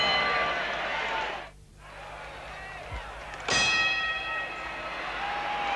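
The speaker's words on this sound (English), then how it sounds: "The bell has sounded for round four" A boxing ring bell rings at a 1972 heavyweight title fight to start round four, a sharp metallic clang with ringing overtones over crowd noise and a commentator's voice.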